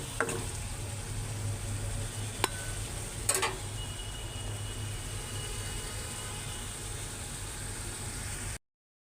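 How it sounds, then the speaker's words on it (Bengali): Shrimp sauté in a pan with a faint, even sizzle that runs unbroken throughout, broken by a couple of sharp utensil clicks and a brief scrape partway through. "চিংড়ি মাছগুলি ভালো করে কষায় নিব কষায় পরে সবজি তরকারিটা দিয়ে দিব"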